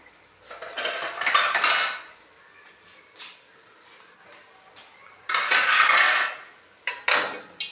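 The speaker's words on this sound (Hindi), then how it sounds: "इसका ढक्कन ऊपर दे दे।" Metal clatter of a lid set on a cooking pot on the stove while potatoes and mongray cook, with several bursts of clanking and rattling, close and moderately loud.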